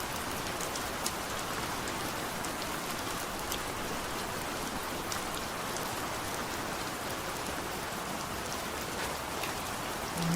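Heavy rain pours down steadily in Balasore, a dense, loud, unbroken hiss of drops striking surfaces that continues for the whole stretch with no voices.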